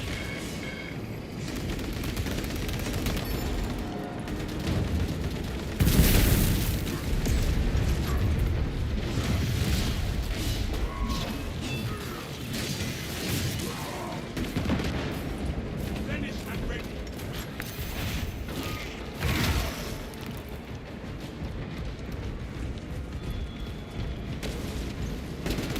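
Enemies firing on players from an upper level during a Xenos-clearing operation in a shooter, with sustained gunfire and heavy booms, a big blast near six seconds, under near-constant talk.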